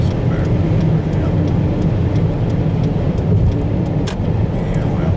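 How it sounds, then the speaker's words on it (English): A car zooms past on a road with steady loud broadband rumble throughout, the passing vehicle blending into continuous traffic and engine noise, with a few faint clicks on top. "The car right there was zooming past too."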